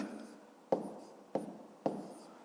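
Pen strokes writing out a fifth-grade multiplication problem, heard as three sharp, quiet taps spaced roughly half a second apart over a soft background hush.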